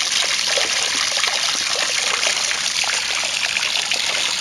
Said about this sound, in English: And it's just running off the water coming out of the backyard tap.